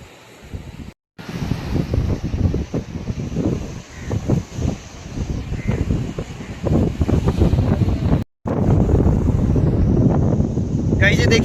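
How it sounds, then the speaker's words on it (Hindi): Strong cold wind gusting across a fort in the middle of the sea, roaring loudly into the microphone with brief drops, under and between someone talking. "यहाँ पे कितनी तेज़ हवा आ रही है"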